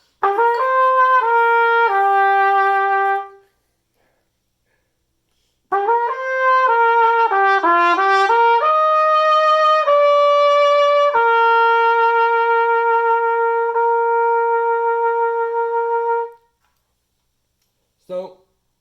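Solo trumpet plays the opening part of a piece, a clear brass line of sustained and moving notes in two phrases separated by a pause, loud and close with no talking.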